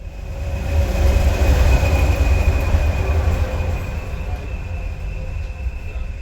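A heritage railway train on the East Lancashire Railway rumbles steadily close by, with a loud low roar of wheels on track and a faint high whine running through; no one speaks.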